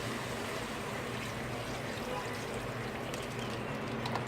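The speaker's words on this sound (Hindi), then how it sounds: "अब इसमें मैं पानी डाल रही हूँ" Water runs in a continuous, fairly quiet stream as about two glasses are poured into a pot of vegetables for a one-pot Chinese-style spaghetti, a steady trickle that fills the whole stretch without speech.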